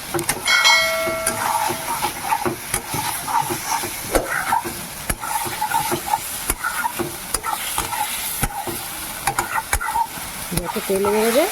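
Goat fat fries in a pan with a dense, crackling sizzle and repeated stirring scrapes, steady and close throughout without speech.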